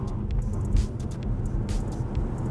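A BYD Seal electric car accelerating at full throttle on a wet road with ordinary street tyres gives a loud, steady rumble of road and drive noise for the whole stretch, with no talking.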